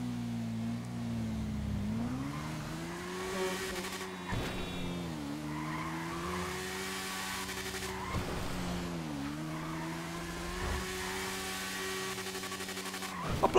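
A Yamaha XJ6 F Diversion motorcycle in GTA V revs loudly and steadily near 150 km/h, its engine drone rising and dipping through gear changes with a few sharp whooshes and tire noise, close and without talk.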